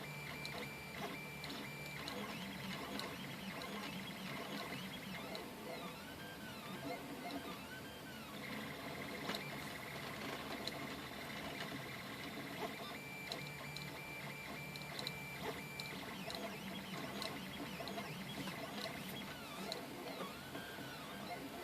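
A 3D printer working through a test print on frosted glass, with continuous motor whirring and repeated pitch-sweeping stepper whines over a low hum, steady and close with no voices.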